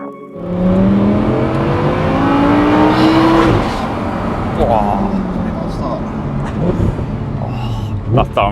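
An Audi R8 V10 Spyder revs hard, its rising engine note climbing through gears before a crisp downshift blip and lower rumble, loud and close, with people talking over it.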